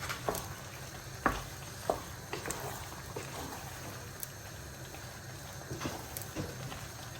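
Baked macaroni being stirred in a pan, with soft scraping and sizzling, a few sharper spoon clicks against the metal, faint and close throughout.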